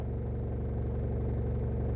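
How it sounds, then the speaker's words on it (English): A car engine rumbles steadily and fairly loudly on a road by a one-lane bridge, giving a continuous low hum with no break. "This car's still coming."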